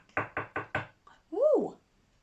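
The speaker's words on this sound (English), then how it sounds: "there was a knock at Mr. Greedy's front door." Four firm knocks rap on a front door in a quick, even sequence, followed by a brief high, rising-and-falling vocal sound.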